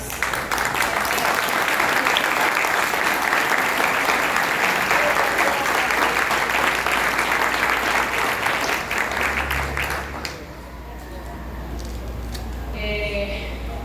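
A church congregation applauds in worship, a dense, loud, sustained wash of clapping for about ten seconds before it fades into quieter room sound.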